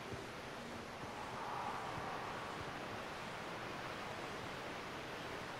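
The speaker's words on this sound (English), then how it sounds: "It's a damn waterfall." A waterfall in The Outer Worlds video game roars as a steady, dense rush of falling water, constant and fairly loud throughout with no voices over it.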